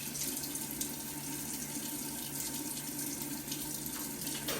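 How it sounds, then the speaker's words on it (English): Steady water running from a tap while someone rinses out their mouth at a sink, a soft continuous splashing rush with no break, fairly faint and with no voices. "rinse out a bunch of times."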